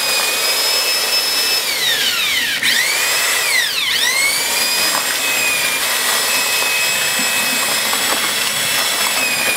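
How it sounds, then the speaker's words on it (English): A power drill with a paddle mixes stucco in a bucket, a loud steady whine held throughout with two brief dips and recoveries in speed, close and alone without talk. "you put a dry drill in a bucket where you're mixing it"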